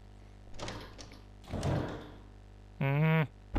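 Creaky mansion door swinging open in the game Resident Evil HD, heard as soft scraping creaks followed by a loud, drawn-out groaning hinge squeal near the end, with no talk over it.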